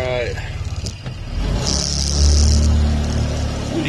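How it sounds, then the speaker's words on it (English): Gas-powered Cazador side-by-side UTV engine running while riding, a steady loud motor drone that rises in the middle, with wind noise and a person talking over it. "you can tell it's gas fired, you can hear the engine."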